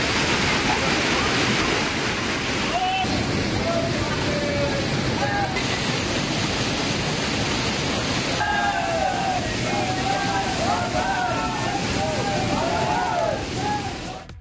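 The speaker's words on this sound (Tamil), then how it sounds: "அருவிகளில் நீர் ஆர்ப்பரித்தது." Heavy rain has swollen the waterfalls near the Jatashankar Dham temple in Chhatarpur district, and their water roars as a loud, steady rush; a voice talks over it.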